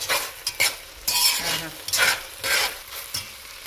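Rice frying in ghee for Kashmiri pulao, stirred with a spoon in repeated scraping strokes over a close, steady sizzle.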